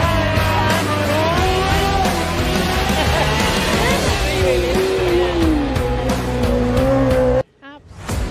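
Sidecar racing outfits at the Three Wheeling TT, with loud engines roaring and whining through changing pitches as machines pass close by, tyres squealing, ending in a sudden drop to a quieter stretch.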